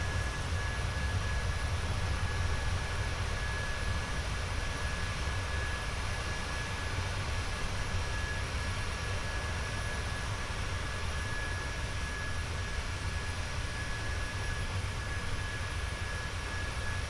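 A PMDG 737-700 jet airliner in Microsoft Flight Simulator drones with a steady, even engine roar and a thin high whine that never changes, with no voices over it.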